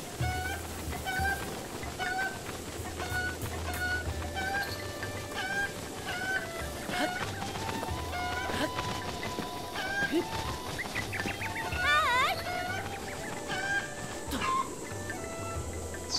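Chickens cluck and squawk in The Legend of Zelda: Breath of the Wild, their calls recurring over a steady bed of ambient game music and background sound, with a busier burst of bird noise near the end.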